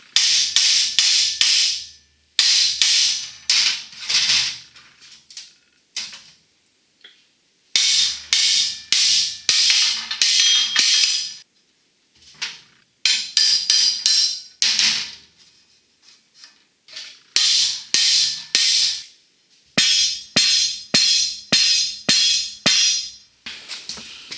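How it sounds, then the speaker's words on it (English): Bursts of sharp metallic striking as a metal rod is hammered into a press brake guide rail on the ground, rapid blows in clustered series with short pauses between, close and loud, no talking. "So that worked a little bit better, hammering it on the ground."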